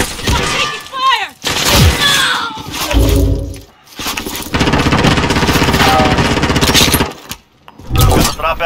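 Call of Duty Warzone gunfire, loud bursts of rapid automatic shots and heavy firing in close succession, broken by short pauses and mixed with other game effects.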